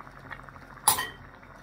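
Dried shrimp (ebi) soaking in a bowl of water are stirred with a utensil for a Javanese bami sambal, giving one short clinking, sloshing stroke in the middle amid quiet kitchen background.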